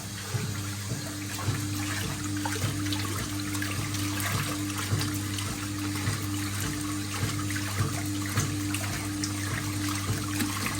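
Water runs steadily into the tub of a 1958 Hotpoint Empress washing machine, a continuous rushing fill with a low hum beneath it, close and unbroken throughout.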